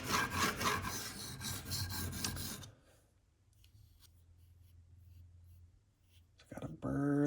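A Spyderco Paramilitary 2 knife with a CPM-10V steel blade is sharpened, giving close, gritty rasping strokes for a few seconds, then a quieter pause before a brief scrape and clatter at the end.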